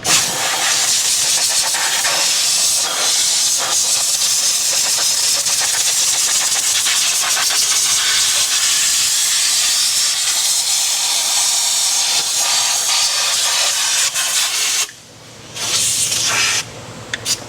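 Loud, continuous hiss of compressed air blowing off Ford 5.4 Triton engine parts close by for a long stretch, cutting out briefly before a final few short bursts.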